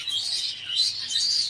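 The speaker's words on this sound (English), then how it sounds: "So this nest here is actually a colour budgerigar nest, the miniatures" Miniature colour budgerigar chicks in a nest, with their mother feeding them, give a steady stream of high, thin chirps and squeaky begging calls. The sound rises and falls, is moderately close and has no speech.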